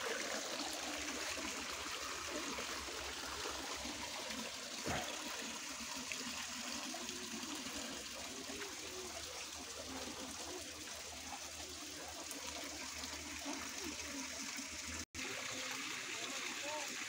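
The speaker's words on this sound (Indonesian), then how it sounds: "sungai kecil" A small river stream flows in a steady, full rush of water that stays close and constant throughout, with one brief cut near the end.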